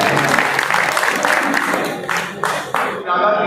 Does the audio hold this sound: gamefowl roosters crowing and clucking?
no